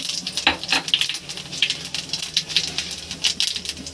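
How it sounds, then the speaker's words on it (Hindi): Cumin seeds crackling and popping in hot oil, a dense sizzle with rapid irregular snaps, close and steady throughout. "जीरा चटक रहा है।"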